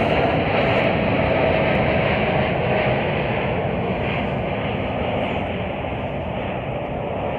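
An American Airlines Boeing 787 Dreamliner jet taking off at Chicago O'Hare makes a broad, roaring rush that swells and then slowly eases, loud and steady, with no voices over it.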